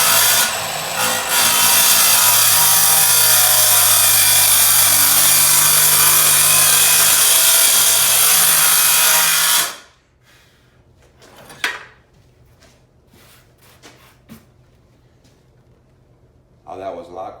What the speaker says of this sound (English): pretty much what you're going to do is plunge cut just like I did with the jigsaw